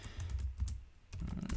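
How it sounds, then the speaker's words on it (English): Keys clatter on a computer keyboard as an IPv6 address and prefix length are typed in. The quick clicks come close and fairly quiet, in two short runs separated by a brief pause. "just type in the IPv6 address and the prefix length"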